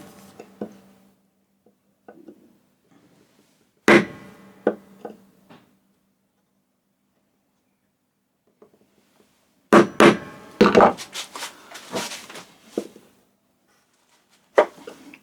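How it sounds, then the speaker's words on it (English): A chisel struck into a knife line on wood for cupboard door joinery gives sharp, scattered taps and scraping knocks, close and fairly loud, separated by quiet pauses, with a denser cluster of cuts near the end. "We bring the chisel in and deepen the knife line to start with."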